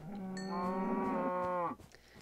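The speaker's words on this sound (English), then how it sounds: "here's a mob. Hello, cow." A cow in the video game Minecraft lets out one long, loud moo lasting well over a second, which ends abruptly and leaves quiet game ambience behind.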